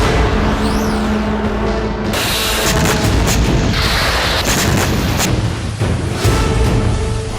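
Drone explosions strike Russia's Engels airbase, a steady loud barrage of booms and blasts over continuous heavy rumble, with a rising-and-falling whine early on.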